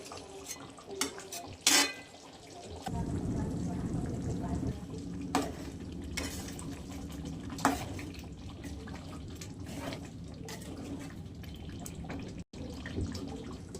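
Spinach and peas curry being stirred in a pan, a steady soft scraping and bubbling that runs continuously with a few sharper clinks of the spoon against the pan.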